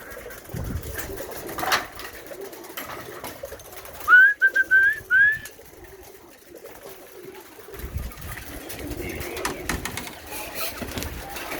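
A flock of about 21 Birmingham Roller pigeons coos a few times at close range amid rustling and background noise around the loft.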